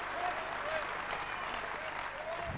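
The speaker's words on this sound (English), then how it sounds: "He's waiting for the crowd to die down" Steady applause from the crowd at a 2001 British Open squash match, a broad continuous clatter of clapping throughout, with faint voices mixed in.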